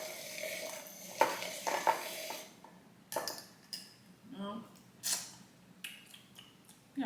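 Protein powder being stirred into coffee in a kitchen, with spoon clinks and scraping against a cup in uneven bursts, fairly close and quiet, with occasional pauses.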